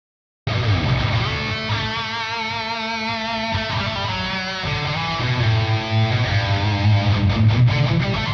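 Seven-string RUF electric guitar playing sustained, ringing chords and notes with a spacious reverb tail, steady and fairly loud, no voices.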